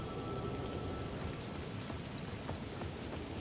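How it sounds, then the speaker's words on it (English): Steady rain falls in the video game Alan Wake II, a dense, even hiss of drops on surfaces with a few faint crackles and no talking. "The rain never stopped falling."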